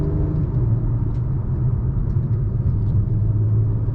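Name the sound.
2023 Acura TLX Type S V6 engine accelerating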